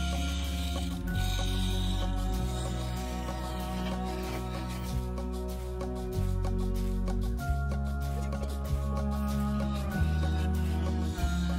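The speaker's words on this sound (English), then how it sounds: "Then I began shear scraping, but I didn't want to risk getting a catch, so out came the full-sized carbide." A full-sized carbide scraper shear scraping a sapele wood vase with resin on a lathe, a continuous close rasping drone with the steady hum of the spinning lathe beneath it.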